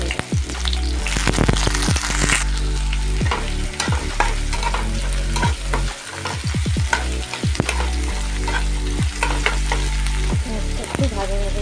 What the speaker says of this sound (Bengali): পেঁয়াজটা একটু হালকা ভাজা ভাজা করে তারপরে একটু টমেটোটা দিয়ে দেবো।